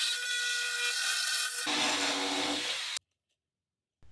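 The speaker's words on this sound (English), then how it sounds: "I'm gonna cut the skull plate right about here using a sawzall." A reciprocating saw cuts through a deer skull plate with a harsh, buzzing rasp that shifts tone partway through, then stops abruptly into near silence before a brief restart.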